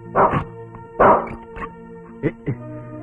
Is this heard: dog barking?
yes